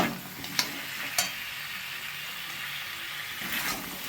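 Beans and tomato sautéing in a pan, a steady hissing sizzle with a couple of sharp spoon clicks early on and a brief swell of frying near the end.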